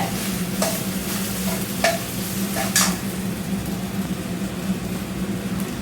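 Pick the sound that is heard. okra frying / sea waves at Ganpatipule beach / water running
okra frying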